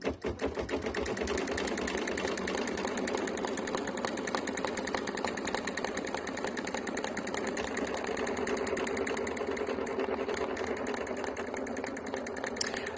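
Embroidery machine stitching a decorative outline on a cardstock greeting card, a loud, fast, continuous mechanical needle chatter running steadily close by throughout.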